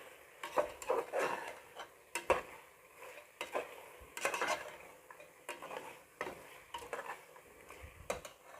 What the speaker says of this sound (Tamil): மட்டன் எல்லாத்தையுமே சேர்த்து இப்போ நல்லா வதக்கி விட்டுக்கலாம்